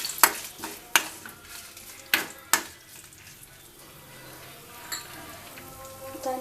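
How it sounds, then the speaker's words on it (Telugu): Tomato chutney ingredients stirred in a pan, with a few sharp scraping clacks of the spoon early on over a soft, steady background sizzle, then quieter gentle stirring. "వీటిని ఒకసారి కలయపెట్టాలి"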